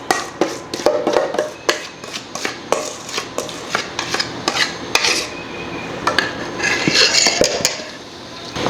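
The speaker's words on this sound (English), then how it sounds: "So you're gonna put it on top of your granola and stir it all together." A spoon stirs a wet honey mixture into granola in a bowl, giving steady scraping, clinking and tapping against the bowl that runs through the whole stretch, close and fairly loud with no voices.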